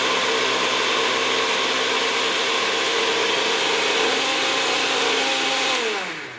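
A blender mixing German pancake batter makes a continuous loud motor whir with a steady pitch, then slows and winds down at the end.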